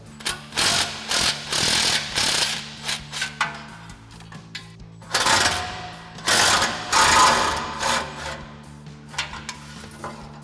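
An impact wrench with a 13mm swivel socket and extension works exhaust nuts loose under a GMC Sierra 1500, firing in several rapid rattling bursts separated by pauses, close and loud, with no talking.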